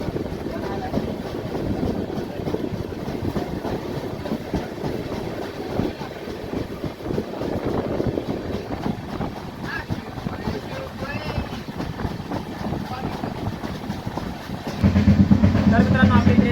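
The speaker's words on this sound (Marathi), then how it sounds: "आपली ट्रेन जी आहे ती मलकापूरवरून निघालेली आहे" Express train rolling along after leaving Malkapur on a hot day, a continuous rumbling clatter with wind buffeting the microphone, growing louder and heavier toward the end.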